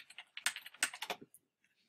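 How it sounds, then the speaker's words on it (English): A password typed on a computer keyboard: a quick burst of about a dozen close, crisp key clicks over roughly a second, then a single later tap and quiet. "So I'm going to type my password one more time."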